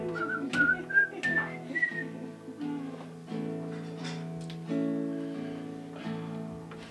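A person whistles a melodic tune from some songs, clear and close, with a string of rising notes followed by longer held tones, heard alone with no talking.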